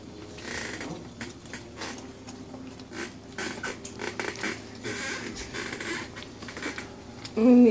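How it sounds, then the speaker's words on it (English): Feet rubbing and pressing on a worn footstool in a home kitchen, producing a run of creaks and squeaks that come and go over several seconds, with a louder knock near the end. "you're not supposed to be taking your feet squeaking on a stool"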